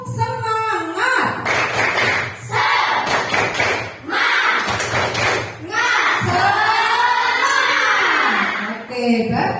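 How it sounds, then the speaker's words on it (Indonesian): A class doing a 'tepuk semangat' rhythmic clapping cheer, bursts of patterned group claps alternating with chanted voices, loud and close in a classroom. "Oke, sekarang tepuk semangat."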